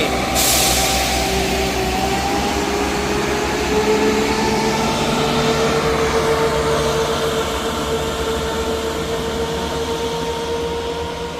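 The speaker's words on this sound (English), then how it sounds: "Departing out now is 17409 on the 1109 Scotrail service from Leaving to Edinburgh Waverley." ScotRail diesel multiple unit 17409 pulling out of Inverkeithing station, a loud continuous engine drone with steady tonal whine and rumble that holds throughout with no talk.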